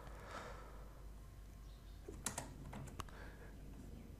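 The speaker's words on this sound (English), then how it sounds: "Type devmgmt.msc in the dialog and press enter." Faint, quiet keystrokes on a computer keyboard as a short command is typed, a few soft clicks clustered near the end over low background hiss.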